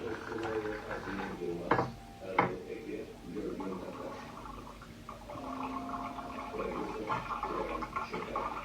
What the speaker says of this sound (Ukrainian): Открываю кран.